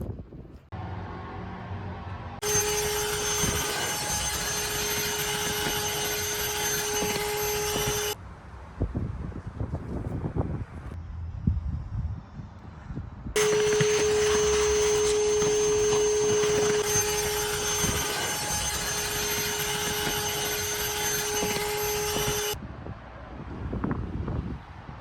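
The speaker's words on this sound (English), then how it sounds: "we're gonna give it a quick vacuum, a quick cleanup" A vacuum cleaner works through a car interior in two long loud runs, a steady high whine with a constant tone, separated by a pause full of handling knocks and rustles.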